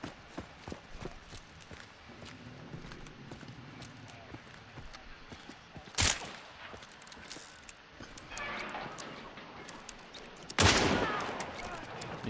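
Gunfire in Hunt: Showdown, with a sharp loud shot near six seconds and another heavy blast near ten and a half, between quieter footsteps and ambient game noise, with no talk.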